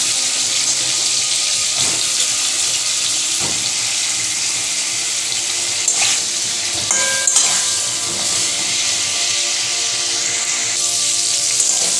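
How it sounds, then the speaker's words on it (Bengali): Pieces of pointed gourd fry in a kadai in oil left from frying prawns, giving a steady, close, even sizzling hiss with a few faint clinks and no talking. "ওই তেলেই পটলগুলো ভেজে নেব।"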